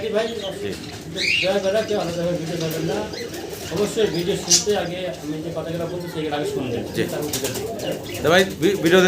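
Domestic pigeons coo steadily at a seller's loft, their low warbling calls running through the whole stretch beneath near, continuous talking, with a few brighter chirps and faint rustles mixed in.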